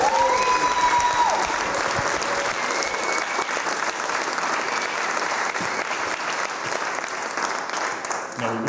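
A theater-related audience gives another round of applause, a steady wash of clapping from a crowd that holds at an even level throughout, with faint voices beneath.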